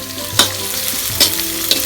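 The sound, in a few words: curry leaves frying in oil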